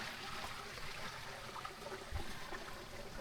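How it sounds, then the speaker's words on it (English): A little waterfall and runoff trickle along the Indian Rockhouse Trail in Arkansas, a faint, steady wash of water with no voices. "there's a little runoff and a little waterfall up there"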